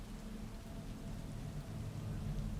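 Steady rain falls in the video game Cyberpunk 2077, a dense even hiss over a low rumbling bed that swells slightly toward the end, with no voices.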